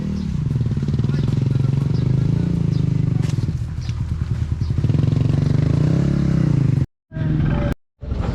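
Motorcycle engines roar steadily at close range, laboring and surging over rough ground in Zambales, Philippines, with voices mixed in beneath the noise before it cuts out briefly near the end.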